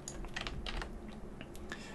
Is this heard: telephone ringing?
no